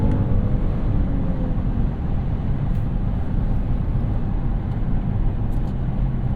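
Genesis GV80 SUV engine pulling steadily in sport mode at speed, a loud continuous low drone mixed with road and wind noise from inside the cabin, no voices.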